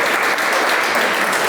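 Steady, dense applause from an audience at a ribbon cutting ceremony for a recreation center, loud and continuous throughout with no voices over it.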